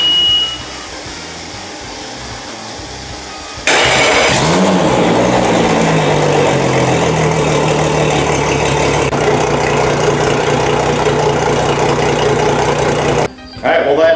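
An outboard motor starting up in a garage, catching abruptly and then running at a steady, loud drone that fills the space, with a brief dip near the end.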